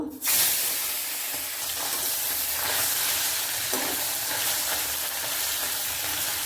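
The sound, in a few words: tangra fish frying in hot oil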